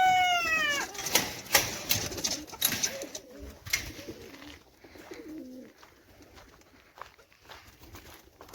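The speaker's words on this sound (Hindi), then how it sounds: "ये हमारे कबूतर हैं।" Pigeons coo in soft, low, repeated phrases close by, after an opening high chirp and a few clattering knocks, with a quieter stretch toward the end.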